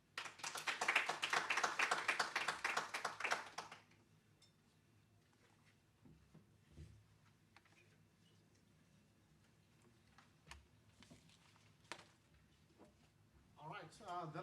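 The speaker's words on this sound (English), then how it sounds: "So another round of applause." Audience applause at a 2023 CLMS research day session: a dense, loud burst of clapping for about four seconds that then cuts off, leaving quiet room noise with a few faint taps and shuffles.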